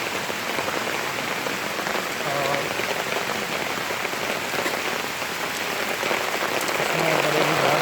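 Heavy rain pours near the Nainital waterfalls, a dense, steady hiss of drops hitting surfaces up close that holds for the whole stretch, with a brief voice heard once over it.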